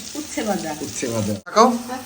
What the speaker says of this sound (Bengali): আর এই যে ভাজা হচ্ছে আমার প্রিয় একটা জিনিস